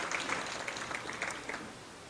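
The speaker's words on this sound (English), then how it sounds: "so give them a great round of applause" An audience at a political fundraising event in Toronto applauds, a moderately loud, sustained clatter of many hands with a few sharper claps popping out, gradually thinning toward the end.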